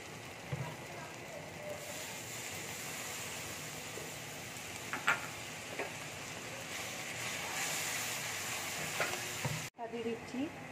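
Steady, soft sizzling and frying from a pan with turmeric and a little water added, broken by a few clinks of stirring and dropping abruptly near the end.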